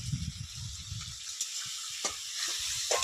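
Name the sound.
fish oil frying in a pan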